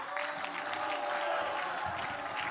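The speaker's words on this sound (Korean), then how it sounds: "여러분 다시 한번 큰 박수로 환영해 주십시오." Faint, steady applause from a standing audience welcoming a presidential candidate at a party campaign committee launch, with a low tonal hum and scattered crowd noise under the clapping.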